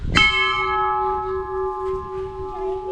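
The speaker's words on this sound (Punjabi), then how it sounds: "ਘੰਟੀ ਦੇਖੋ ਤੁਸੀਂ ਕਿੰਨੀ ਤਕੜੀ" A large bell at the gate of Punjab's highest hilltop temple is struck once, loud and close, its bright metallic ring sustaining and slowly fading over several seconds.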